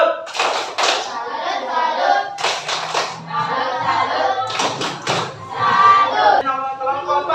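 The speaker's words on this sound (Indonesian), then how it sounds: "Tepuk salut." Children in an Indonesian classroom perform a tepuk salut clapping chant, bursts of sharp rhythmic hand claps alternating with shouted chanting voices, close and loud.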